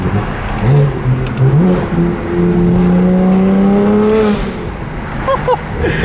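A BMW M3 CS drives and revs hard, its engine note climbing in rising sweeps, then holding a high sustained tone before dropping off, loud and close with a few sharp mechanical clicks.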